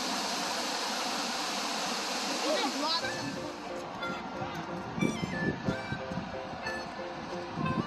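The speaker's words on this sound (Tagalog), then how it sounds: "Pupunta kami dito sa falls, sa waterfalls." Montmorency Falls near Quebec City roars as a steady, broad rush of falling water heard from close by, with people talking over it.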